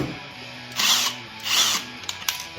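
A Dremel rotary tool drills partway into a plastic Flex 24V bit holder in two short, close, high-pitched whirring bursts separated by a pause, followed by faint clicks.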